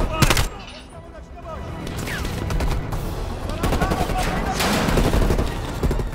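Rapid bursts of gunfire in the video game Call of Duty Cold War, loud and close, with sharp shots and a brief explosive boom as a player's voice talks over the firefight.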